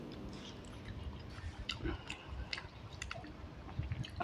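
Someone chews and bites a mutton marrow bone up close, with soft irregular crunches, clicks and wet squishes over a few seconds.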